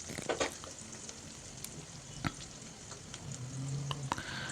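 Onions being stirred as they fry in a pan make a soft, steady sizzle, punctuated by faint scrapes and taps of the spoon against the metal.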